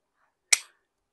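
A single sharp, close gunshot crack with a short decaying tail during handgun shooting practice, alone against silence.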